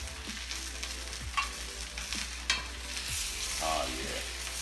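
A NY strip steak searing in a hot pan, giving off a steady, moderately quiet sizzle with occasional scrapes and stirring sounds, and no voices.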